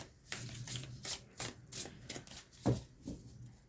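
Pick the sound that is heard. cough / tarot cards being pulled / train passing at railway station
tarot cards being pulled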